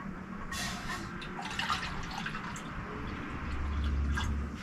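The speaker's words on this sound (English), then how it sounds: "So get some water in there." Water trickles and drips into a camp stove pot being rinsed out outdoors, a faint, uneven splashing with small spatters throughout.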